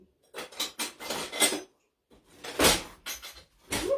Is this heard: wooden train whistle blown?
no